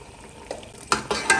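Turmeric and chilli powder being stirred into bong paye curry in a hot pot, a short burst of scraping spoon strokes over a soft sizzle, with two louder swishes near the end.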